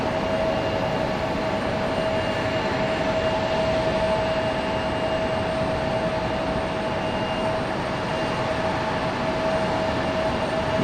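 American Airlines airliner in Astrojet retro livery at Raleigh-Durham International Airport, a steady loud jet engine roar with a high whine held evenly throughout, no voices.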